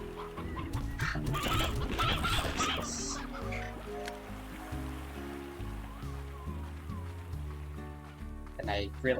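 Chickens cluck in the Slime Rancher video game, several birds scattered through the scene over a busy game soundscape with music, while a person talks over them for much of the time.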